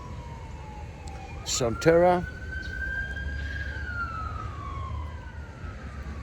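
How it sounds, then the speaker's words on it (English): An ambulance siren on the outskirts of San Antonio wails in a slow rising and falling sweep as it passes, heard over road noise from a moving car, with a short burst of speech partway through. "We had a little ambulance go by."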